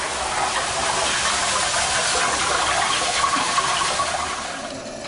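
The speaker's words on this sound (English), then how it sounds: "Now the deluge valve is activated." Water gushing steadily from an activated deluge valve in a double interlock preaction sprinkler system, a continuous loud broadband rush that holds level for the whole stretch with no voices.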